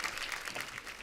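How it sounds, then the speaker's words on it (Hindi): A studio audience at a comedy talk show claps in a brief, steady burst of applause, heard faintly and evenly throughout. "जोरदार तालियां हो जाए एक बार"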